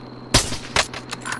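Gunfire in Call of Duty Warzone comes as sharp, close shots: one loud crack, a second one, then a few lighter bursts in quick uneven succession.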